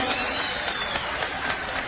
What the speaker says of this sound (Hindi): तालियों की गड़गड़ाहट से स्वागत होना